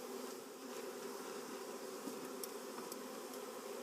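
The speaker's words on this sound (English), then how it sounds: "here we have a lovely black sagebush that the honeybees are eating these days" Honeybees work black sage flowers outdoors, a soft continuous buzzing hum from several insects nearby, faint and steady throughout.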